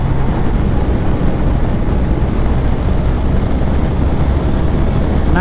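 A 2014 Triumph Bonneville SE motorcycle at max throttle on the road, a loud continuous roar heavily mixed with rushing wind noise, steady throughout with no talk.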